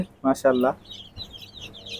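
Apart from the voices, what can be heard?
native chicken chicks chirping after hatching in an incubator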